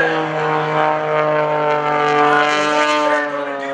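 An aerobatic propeller airplane at the Greenwood Lake Airshow flies by with its power pulled back, a loud steady harmonic engine drone holding through the whole stretch.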